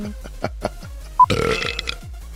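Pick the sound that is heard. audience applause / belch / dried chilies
belch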